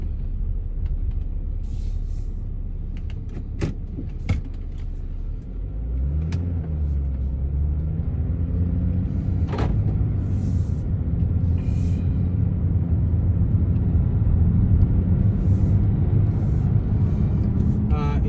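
A car adapted for a disabled driver with hand controls accelerates, its engine rumble building and rising in pitch over a steady drone, with scattered clicks and knocks and some talk in the cabin.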